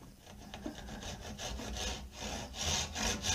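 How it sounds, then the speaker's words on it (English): A crosscut saw set up for long-grain work saws through wood in a workshop, with steady rasping strokes that grow louder toward the end, close and alone. "And this is originally a crosscut saw, but I've kind of set it up for doing,"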